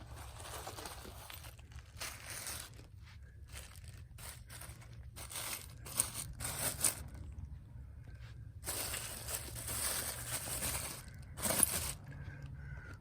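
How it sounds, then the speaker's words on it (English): Plastic bags of coins dug up in an old house basement crinkle and rustle as they are handled, in intermittent bursts of crackling with quieter pauses between, close to the microphone. "Plastic bags of coins."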